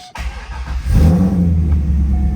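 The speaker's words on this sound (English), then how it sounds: "we're going to fire this car up" A 2002 Chevrolet Corvette Z06 engine cranks briefly, then catches and roars to life, settling into a loud, deep rumbling idle with a slight rev up close.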